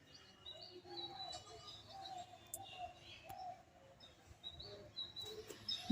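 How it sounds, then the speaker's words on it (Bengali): A dove coos softly in the distance in a repeated, steady rhythm at a temple in Habibpur, Nadia, West Bengal, faint against a quiet outdoor background with occasional chirps. "কোথাও একটা ঘুঘু ডাকছে দূরে"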